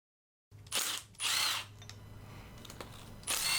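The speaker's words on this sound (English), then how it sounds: "you'll have to feed your socket through the power steering pulley and then go ahead and take that bolt out" A socket driver spins out a bolt on the power steering pump of an Infiniti G37, in two loud whirring bursts close by, a quieter mechanical hum between them, and a third burst at the end.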